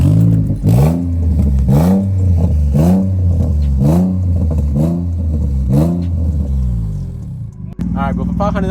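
A worn Infiniti G35 engine revs in repeated rising-and-falling pulls, about one each second, with burbling exhaust crackles between them, loud and close, ending in a sharper blip.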